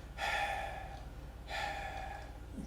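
Two breathy, drawn-out 'ha' exhalations performed as a qigong healing sound for the heart, each lasting about a second, close and clear with a short pause between them.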